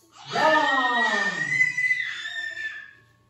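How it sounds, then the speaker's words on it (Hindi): A girl screams loudly and continuously for about two seconds, the shrill cry wavering and then tapering into a whimper, with a noisy household scene around it. "तू क्यों चिल्ला रही है?"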